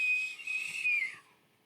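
A single thin, steady whistle holds a high pitch for about a second, then slides downward and fades out, quiet and close.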